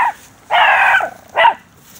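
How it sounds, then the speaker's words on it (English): Puppy barking close by indoors: a short yip, then a longer strained bark and a third brief bark, loud and separated by quiet pauses. "that's a ferocious bark"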